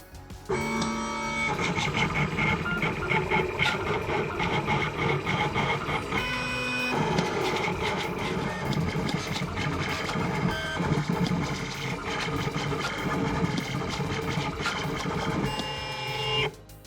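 A vinyl cutter cuts a motorcycle graphic sticker, giving a loud, continuous whirring and buzzing of the plotter's motors. The tone shifts with each cutting pass, with brief pauses near the start, middle and end.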